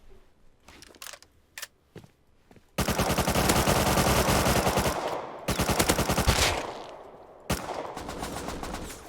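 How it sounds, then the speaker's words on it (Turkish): AK rifle fire from inside a house in Rust: a few scattered single shots, then long loud automatic bursts with brief pauses, sharp and close with no talk. "Ya evden AK sıktı salak."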